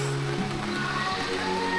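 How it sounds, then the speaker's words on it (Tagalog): Steady rain falling outdoors in rural Bicol, Philippines, a continuous close hiss of drops on surfaces with a faint low hum underneath. "So, umuulan."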